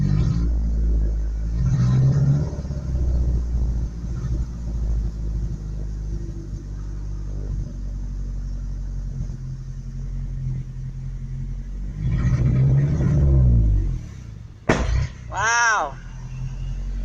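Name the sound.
truck engine cranking and failing to start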